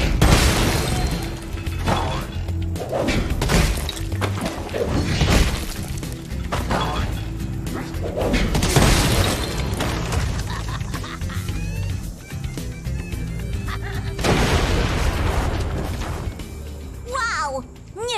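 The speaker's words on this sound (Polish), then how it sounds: "Nie wierzę, że udało mi się przeżyć taki wybuch" Chaotic explosion with crashing and shattering bursts in Spyro Reignited Trilogy (Spyro 3) on PS4, loud layered impacts and debris spread across the whole stretch alongside game sound effects.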